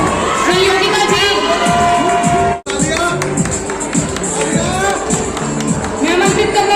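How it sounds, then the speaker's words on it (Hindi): Applause and cheering from an audience at a women's honour ceremony in India, a steady dense clapping wash with shouts, briefly cutting out midway before resuming loudly; a voice speaks over the crowd. "एक बार जोरदार तालियां हो जाए नीलम खन्ना जी के लिए।"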